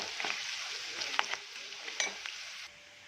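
A spoon stirs turmeric into seasoned rice in a pan over a steady low sizzle, with soft scraping strokes and a few light clinks, no voices.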